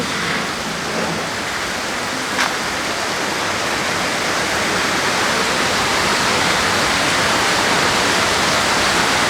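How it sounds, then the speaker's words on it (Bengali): Heavy rain pours down steadily during a rainy day, a dense, even roar with no letup and no voices. "বৃষ্টি নেমেই যাচ্ছে নেমেই যাচ্ছে নেমেই যাচ্ছে তার কোনো কুল কিনারা নাই"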